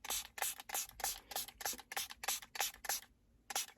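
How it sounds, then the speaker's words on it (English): A trigger sprayer mists cleaner onto the screen of a Land Rover Defender 110, about a dozen quick, rhythmic hissing spurts with a brief pause before the last one, close and fairly quiet. "we're going to spray down the actual screen itself."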